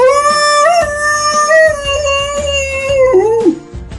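Dogs in a cartoon Halloween story give a sustained, wavering howl with whimpering yips, steady and loud before wobbling and dropping off near the end.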